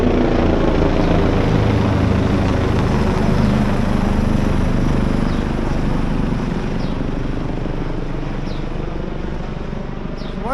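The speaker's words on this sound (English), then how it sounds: "That helicopter that's got to come and just hang. I love it, man. I just love that noise." A helicopter hovers overhead above a residential block, its rotor chopping in a loud, continuous rhythmic thrum that holds steady throughout.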